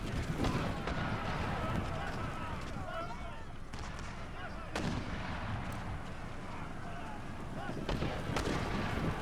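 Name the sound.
mortar artillery fire in video game Empire Total War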